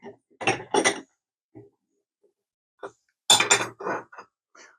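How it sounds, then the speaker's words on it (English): A bench vise being cranked closed in a workshop before angle grinding, heard as a few close metallic clicks and clunks in short bursts separated by quiet gaps, with no speech. "And we're going to crank this closed."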